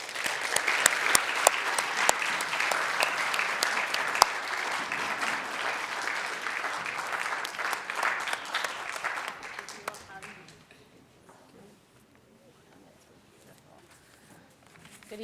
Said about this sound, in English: could you please give a round of applause to bring to the podium